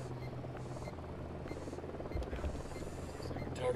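A helicopter in the Ghost Recon Wildlands video game, a steady low rotor buzz and hum at moderate distance, continuous throughout with no voices.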